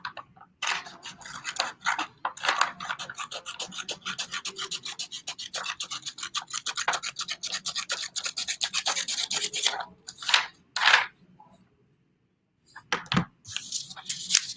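Scissors trim folded tissue paper for papel picado, giving close, dry rasping snips in a dense steady run that stops briefly near the end, then resumes with a few more cuts.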